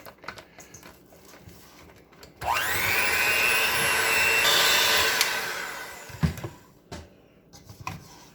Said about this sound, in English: Now I'm going to get my electric mixer and give this a good mixing.